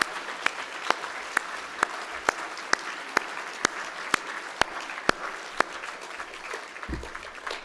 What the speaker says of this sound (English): Let's do another big round of applause for the newest members of the Canadian Mining Hall of Fame.